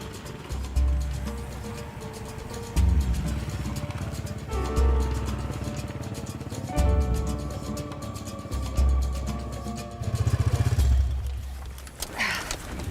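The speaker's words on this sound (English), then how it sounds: "There's plenty of noisy traffic here" Motorcycle engines repeatedly rev and pass along a street, with bursts of rising engine noise over a busy background hum.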